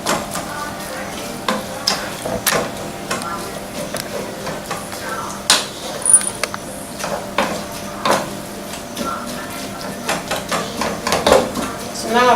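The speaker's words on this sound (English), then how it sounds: "To mix it in properly, and I'll cook for a minute." Efo Riro soup stirred in a pot, a spoon scraping and knocking against the sides in irregular strokes over a steady sizzle from the heat beneath.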